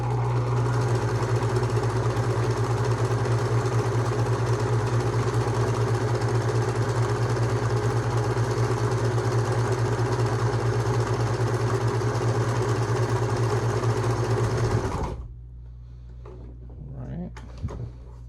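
A Husqvarna Viking 190 sewing machine stitches fabric with a steady, loud mechanical hum and rapid needle rhythm that runs continuously, then stops abruptly, leaving faint handling clicks.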